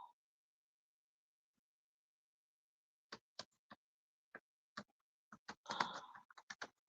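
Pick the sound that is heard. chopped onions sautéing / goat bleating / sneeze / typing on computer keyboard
typing on computer keyboard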